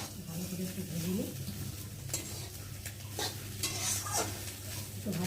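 Chowmein being stir-fried in a pan for a home tiffin, with a utensil repeatedly scraping and clattering against the pan over a continuous sizzle, close and fairly loud, with no one speaking.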